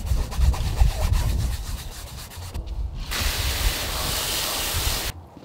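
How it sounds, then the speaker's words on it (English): A green Scotch-Brite pad rubs a snowmobile clutch sheave after a spray of Simple Green, making close, continuous abrasive scrubbing in short strokes, then a steadier hiss before stopping abruptly at the end. "Hit it with Simple Green. This is a green Scotch-Brite pad."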